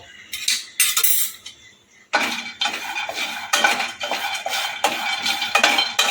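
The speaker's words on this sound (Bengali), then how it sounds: "বাদামটা শুকনো কড়াইয়ের মধ্যে ভেজে নিয়েছি" Peanuts dry-roasting in a dry kadai, stirred with a metal spatula that scrapes and clinks against the pan in repeated bursts, close and fairly loud, with a brief quiet pause early on.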